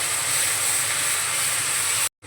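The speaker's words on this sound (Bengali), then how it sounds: "পেঁয়াজটাকে আমি ভেজে নেব।" Onion paste sizzles in hot oil in a pan while cooking a prawn and green pea curry, a steady close hiss that ends abruptly.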